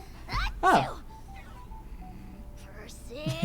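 A game character lets out a single short sneeze during a quest, a sharp burst near the start followed by quieter ambient game sound and faint voices.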